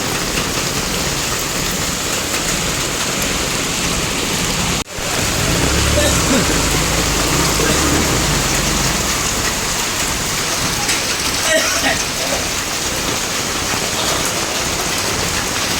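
Heavy monsoon rain pours steadily over a flooded street in Nalasopara, Mumbai, a dense continuous hiss with a brief sharp knock near five seconds; faint voices sit under the downpour.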